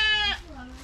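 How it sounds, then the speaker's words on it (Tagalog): A pet goat on a home farm gives one short, close, nasal bleat, followed by a softer, lower voiced tail that trails off. "Bisitahin naman natin yung kambing namin."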